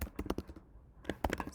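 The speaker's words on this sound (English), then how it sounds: "Start typing your messages." Quick bursts of typing on a computer keyboard, clusters of light clicking keystrokes with a short pause in the middle, close and fairly quiet.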